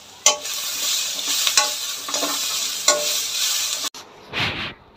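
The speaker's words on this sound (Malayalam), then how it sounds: "ഇതെല്ലാം കൂടി ഇട്ടിട്ട് നമുക്കിതൊന്ന് ഇച്ചിരി നേരം ഒന്ന് വഴറ്റിയെടുക്കാമേ" Onions, garlic and curry leaves sauté in a hot pan with a steady sizzle, broken by several scraping stirs of a spoon before the sound drops back to a quieter frying.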